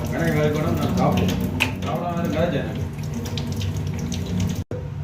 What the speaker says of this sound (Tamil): நல்லா வடிவா அந்த கோதுகளை கழுவணும்